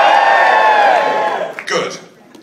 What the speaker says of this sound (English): Now cheer